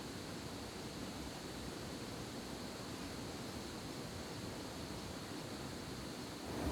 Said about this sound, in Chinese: 坐在这个河水奔腾的地方